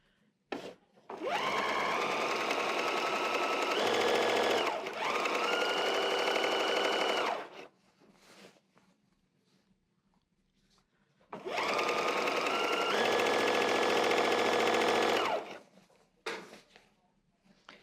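A home sewing machine stitches a quarter-inch seam along the long side of a fabric table runner in two sustained runs of fast, whirring stitching, each several seconds long, separated by a quiet pause with faint handling noises.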